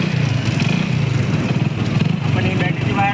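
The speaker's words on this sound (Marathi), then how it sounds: "गाडी चालू झालेली आहे." A Hero Honda HF Deluxe motorcycle engine idles nearby during a regulator-rectifier unit repair, a steady, rapid putter of exhaust pulses with light clattering over it.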